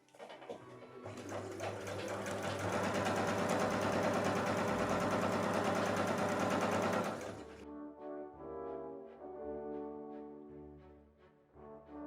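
A sewing machine stitching a Christmas dress runs in one loud, continuous whirring burst of about six seconds, then stops, leaving quieter tonal sounds and no talk.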